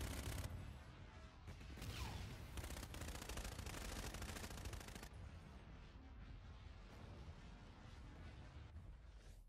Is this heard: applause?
no